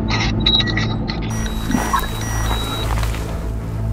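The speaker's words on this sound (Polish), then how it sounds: "Włączył mi się alarm w dozymetrze." A dosimeter alarm sounds short high-pitched electronic beeps repeating at an even pace over a low engine-like rumble, faint beneath the steady background noise, in the Fukushima red zone in Japan.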